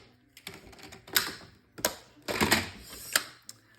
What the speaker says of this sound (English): I better put this blade back in so I'm not shocked the next time I get my trimmer out.